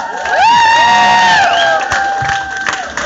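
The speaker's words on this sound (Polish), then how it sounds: "Wielkie brawa dla was" Club crowd at a band's concert cheering and shouting loudly, with high sustained whoops and screams from a packed room, a dense roar that eases slightly toward the end.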